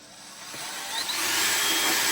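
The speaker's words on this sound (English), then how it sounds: "So take your drill and go ahead and drill the holes on each side." Power drill boring holes on each side of a Stormtrooper helmet during a build, a steady high-pitched whine that rises in loudness and stays close with no talking.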